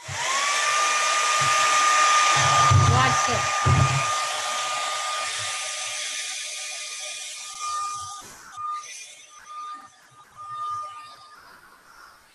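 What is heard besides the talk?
dollar store hair dryer blowing on resin coasters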